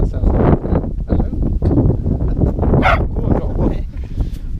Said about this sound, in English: I got a woof